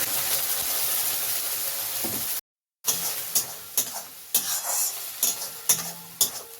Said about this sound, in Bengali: পাতা বাটা দিয়ে ভালো করে নাড়িয়ে দিচ্ছি।